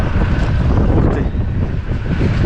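Strong evening wind buffets and flaps a tent, a loud, continuous roaring gust close to the microphone with no talk.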